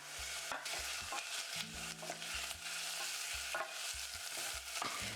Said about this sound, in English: I add the radishes and saute until slightly softened